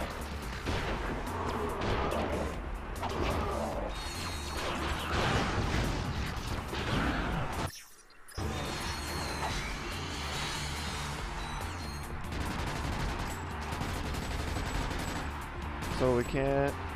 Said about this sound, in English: So I gotta find these things and shoot them.